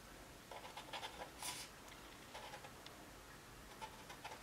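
A pen scratches faintly in short, light strokes across a styrofoam snowman, drawing small marks in quiet, close bursts with pauses between them.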